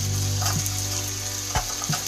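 Leftover rice fries in butter in a pan, giving a steady, close hiss with a couple of soft clacks from stirring and no voices.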